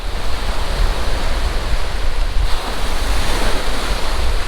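Ocean waves break in a constant loud wash on a sandy, rocky beach, close by, with wind roaring over the microphone.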